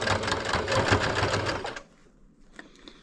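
A sewing machine back-stitching thick blackout curtain fabric for a truck camper shell runs in a fast, loud, close mechanical chatter for under two seconds, then stops, leaving quiet handling noises.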